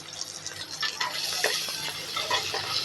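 Curry leaves and green chillies crackle and sizzle steadily in hot oil in a pan while palak rice is being cooked, with brief utensil stirring sounds over a continuous frying hiss at close range.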